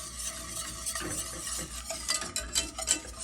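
A hand whisk is worked through a mixture in a bowl. Quick, irregular scraping and tapping strokes grow busier and louder toward the end, with no talking.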